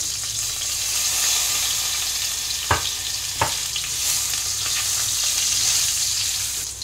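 Young jackfruit sizzles steadily in hot oil with bay leaf and turmeric, a continuous close frying hiss broken by two brief sharp clacks of a utensil against the pan.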